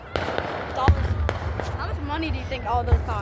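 Fourth of July fireworks bursting in a neighborhood, several sharp booms and crackles scattered through the clip, with people talking excitedly over them.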